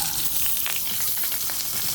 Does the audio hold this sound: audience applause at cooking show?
no